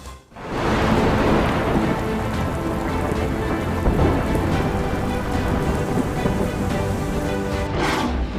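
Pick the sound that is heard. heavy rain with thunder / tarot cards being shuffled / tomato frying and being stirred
heavy rain with thunder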